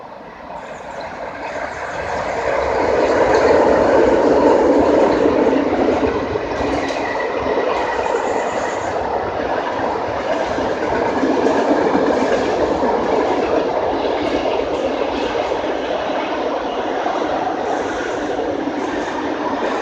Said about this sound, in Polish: O, a tu jeszcze, żeby było śmiesznie, to jedzie pociąg.